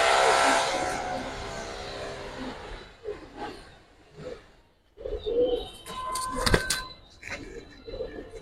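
Giribaz pigeons coo in short, low rounded bursts among a hobbyist's coloured and high-flyer birds, with a hissy rush at the start and sharp clattering handling noises later.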